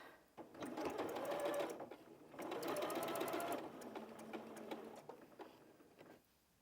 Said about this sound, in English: So let's just sew these.